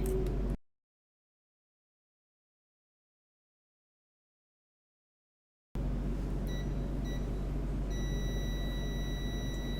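Continuity beeps from a multimeter on a phone microphone's contact points, a steady electronic tone after a stretch of silence, with a few short beeps and a longer held tone near the end.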